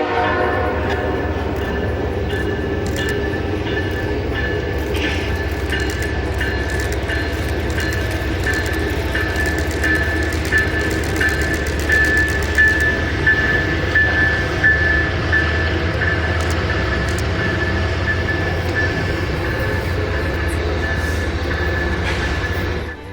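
CSX Santa Train on its southbound run along the Clinchfield route, with a steady loud rumble of passing railcars and a sustained air horn blast cutting through the middle, continuing close by throughout.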